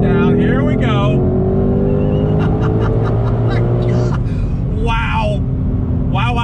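A 2020 Ford Shelby GT500 Mustang with a Tremec gearbox drops down gears and accelerates hard, its loud engine note climbing steadily from inside the cabin under continuous noise, with brief bursts of other sound over the top.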